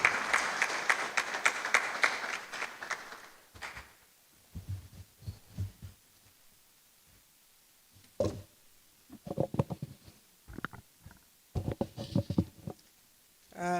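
Audience applause at a public forum welcoming the chairperson: a dense burst of clapping for about three seconds that fades out, followed by a voice speaking over a quiet room.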